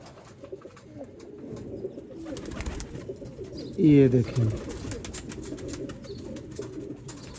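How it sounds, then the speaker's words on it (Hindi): Teddy pigeons coo close by, with a prominent burst of cooing in the middle over a background of birds and rustling, while someone speaks briefly. "ये दोस्तों टैडी कबूतर है।"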